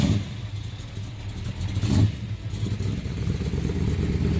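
A 1969 Dodge Charger Daytona muscle car engine rumbles with a deep, steady growl. The engine swells in a brief rev near the middle, then holds a loud, sustained drone.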